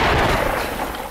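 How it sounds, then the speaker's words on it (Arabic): A 122 mm cannon fires a shell at a distant position, a single loud, booming blast with a broad rumble that fades over about a second. "مدفع عيار 122 يقوم بدك معاقل النظام بقذائف عيار 122"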